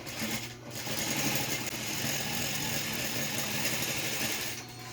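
A sewing machine stitches the finishing seam on a multipurpose fabric pencil case, a continuous fast mechanical whir that runs nearly the whole time with a short pause early on and a slight drop at the end, and no talking.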